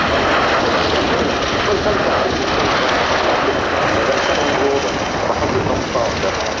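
V-22 Osprey tiltrotor aircraft flying past at an air show, a loud, steady roaring drone of engines and rotors that fills the scene without letting up, with a public-address voice beneath it.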